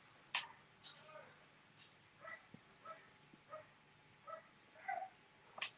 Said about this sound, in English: A little dog in the neighbourhood being a bit of a talker.